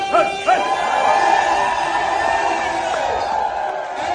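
A crowd of the Yemba diaspora shouts, whoops and cheers at a traditional ennoblement ceremony in Montréal, a dense sustained roar with high voices and ululating calls, people close by and loud throughout.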